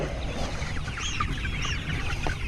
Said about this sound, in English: This is probably the best view yet of the 500 chicks in the brooder right here.